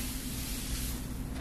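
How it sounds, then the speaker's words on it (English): A spray bottle of water mists fabric in one brief, continuous hissing spray, close and fairly loud. "a spray bottle of water will work just as well as spray starch"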